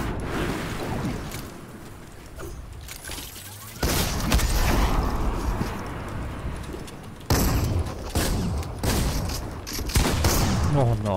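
Rapid bursts of SCAR rifle fire in the video game Fortnite crack out in loud, clustered volleys, with sharp booming hits separated by brief gaps and a voice talking over the action.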